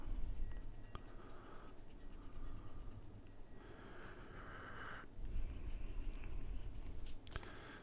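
A pencil drawing a kitten on paper, with erasing of overlapping lines, soft close scratching and rubbing strokes in bursts, faint and steady, no voices.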